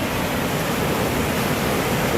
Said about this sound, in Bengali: জলের শব্দ শুনে বুঝতে পারছেন যে কী পরিস্থিতি